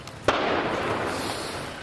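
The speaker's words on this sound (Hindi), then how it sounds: "आखिरकार भारतीय सेना को पाकिस्तान के नापाक इरादों को नाकाम करने के लिए इसे विस्फोट कर उड़ाना पड़ा।" Demolition blast destroying a militant hideout, heard as a single sharp boom followed by a long loud rumbling wash of debris and echo that slowly fades.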